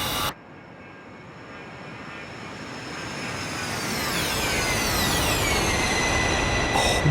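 A jet roars past in the DCS flight simulator game, a loud broad rush that swells and holds as the pitch of its whine sweeps downward in a clear Doppler shift.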